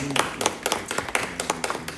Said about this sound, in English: She also deserves a rousing round of applause